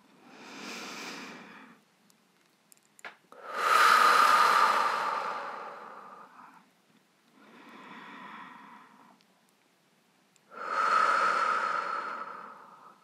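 Slow, deep breaths drawn in and pushed out to empty the lungs during a guided sophrology relaxation, close and unhurried. Four long breath sounds come in turns, with two heavier, louder exhalations standing out against silence.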